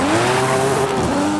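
An R34 Skyline launches hard in Forza Horizon 5, a loud sustained engine roar with a rising then wavering pitch and tire squeal, close and alone with no talk.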